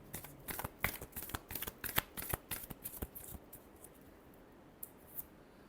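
Tarot cards being shuffled by hand, a rapid run of crisp riffling snaps and flicks close up for about three seconds, then quieter with a couple of isolated taps.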